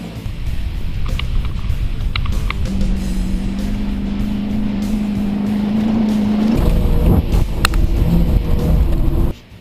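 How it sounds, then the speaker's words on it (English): The engine of a full-size sedan, from a Ford Crown Vic versus Chevy Caprice race, labors through soft dirt in a steady loud drone whose tone climbs slowly under strain, shifts abruptly, then cuts out sharply at the end. "I hear the engine bogging down through the really soft stuff"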